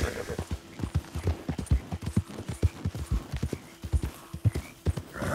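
Horse hooves clip-clop in the video game Red Dead Redemption II, a quick, even four-beat rhythm of close, sharp hoof strikes with a faint snort, steady throughout.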